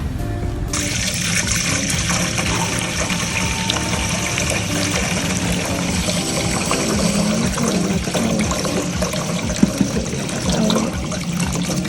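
Olives are washed in limewater, with a loud, continuous rush of running and splashing water close by for the whole stretch and no talking.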